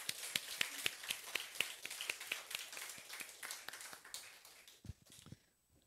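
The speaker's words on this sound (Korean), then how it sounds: "우리 한 번만 하나님께 감사의 박수 올립시다" Scattered hand clapping from a church congregation, distinct individual claps rather than a roar, tapering off over several seconds until it stops.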